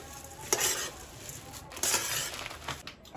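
Bhel puri of puffed rice with carrot, tomato and onion being mixed in a bowl, a few crisp rustling stirs and scrapes coming close and moderately loud over a steady hiss, with no talking.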